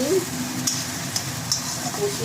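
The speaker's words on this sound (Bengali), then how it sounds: "এবার এই পেস্টটা, পোস্ত, কাজু আর সব রকম মশলার পেস্টটা আমি দিয়ে দিলাম। এবার এটা দিয়ে আমি একটু কষিয়ে" Poppy seed, cashew and spice paste fries in a pan for a katla fish curry, giving a steady sizzle with a few brief stirring scrapes; a faint voice is heard briefly.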